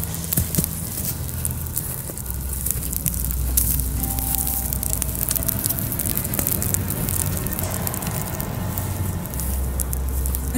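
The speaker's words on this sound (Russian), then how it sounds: "Огонь все разгорается" An outdoor bonfire burns and crackles steadily at night, with dense pops and hissing that continue without a break.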